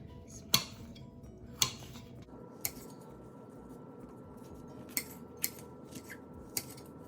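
A knife slicing carrots lengthwise on a cutting board for a Pakistani carrot pickle (gajar ka achar) gives sharp, separate taps at irregular intervals over a quiet kitchen background.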